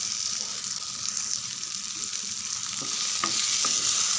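Coconut chutney ingredients with tamarind and tomato are sautéed in a pan over a medium flame, making a soft continuous sizzle with a few light stirring clicks near the end and no voices.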